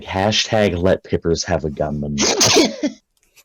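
A single sharp sneeze bursts out in a casual group chat during a tabletop game session, loud and close, sandwiched between stretches of ongoing conversation.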